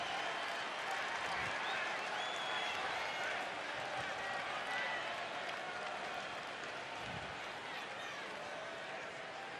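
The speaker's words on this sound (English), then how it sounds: "there are some Mets fans now making noise for the first time tonight" Mets fans in a baseball stadium crowd making noise during a game: broad, sustained roar of distant cheering and clapping that fills the clip evenly, fairly faint overall, with a few dull thumps beneath.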